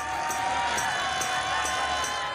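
Spectators fill the biathlon stadium at the Sochi 2014 Winter Olympics women's relay, their broad, steady murmur and distant cheering a continuous wash with faint rhythmic accents, under no clear speech.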